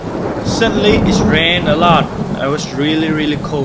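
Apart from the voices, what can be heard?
rain with thunder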